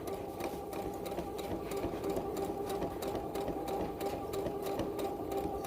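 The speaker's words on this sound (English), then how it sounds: "I'm just doing the exact same thing and sewing along that line." A sewing machine stitches a fabric face mask seam, running as one continuous, even mechanical whir at close range for several seconds.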